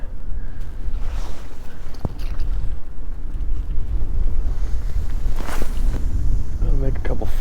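Gusty coastal backwater wind buffets the microphone in uneven surges, with a low roar and occasional louder blasts near the end.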